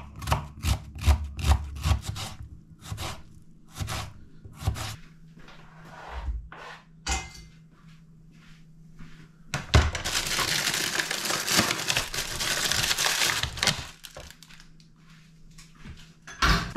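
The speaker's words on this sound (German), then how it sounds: "Ich muss gerade mal die Zwiebel schneiden und die Tomaten ein bisschen klein schneiden" A knife chops onion and tomatoes in a home kitchen, with crisp rhythmic taps on a board that slow and scatter, then a long stretch of broad rushing noise before the tapping resumes.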